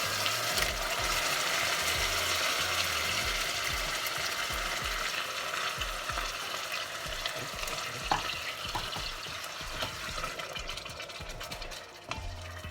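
Chopped tomatoes from a can stirred in a hot frying pan, sizzling steadily throughout with repeated scraping strokes and low thumps, close and fairly loud, no talking.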